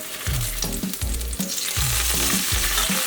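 Eggs sizzling in a hot pan during a tuna stir-fry breakfast, loud crackling fry broken by several thumping scrapes of a spatula being stirred and flipped.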